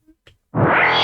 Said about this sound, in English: That is a wild bass noise.